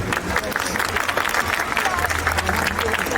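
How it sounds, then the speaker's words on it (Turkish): Audience applause at a live Istanbul event, a dense, steady crowd clapping that stays loud and even throughout the short stretch, with faint voices mixed in. "kendisine sizden hasreten bir alkış rica ediyorum"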